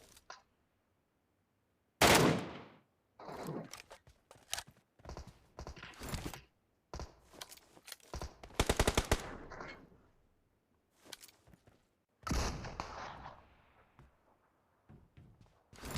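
Gunfire in the shooter game Metro Royale: scattered single shots and short bursts, including one rapid volley midway, separated by silent gaps and heard alone without talk.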